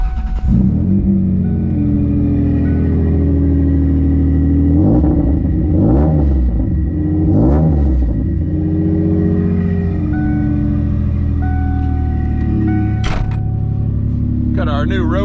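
Ford Taurus sleeper car fitted with a roll cage driving on the road, engine droning steadily with a few rising revs and gear-change swells, cabin talk over the top.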